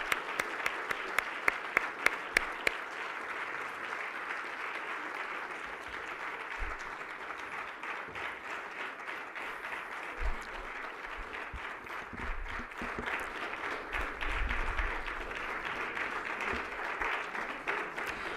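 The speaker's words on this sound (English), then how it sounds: "Please welcome him with a big round of applause." An audience applauds to welcome a speaker at a forum in Princeton, New Jersey, with sustained clapping throughout, a few sharp claps near the start and faint murmurs underneath.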